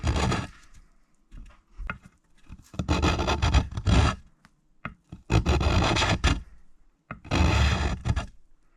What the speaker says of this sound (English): I'm just using a rasp. It's a number 8.